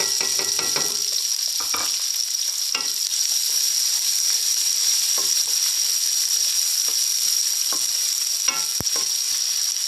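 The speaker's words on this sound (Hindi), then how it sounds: "आज हम घी डाल रहे हैं। अभी हमने जो बारीक काट लिए थे प्याज वो इसमें ऐड कर लेते हैं।" Finely chopped onions fry in ghee in a kadhai, giving a loud, continuous sizzle with a few quick scrapes of stirring near the start and occasional faint clicks, without any talking.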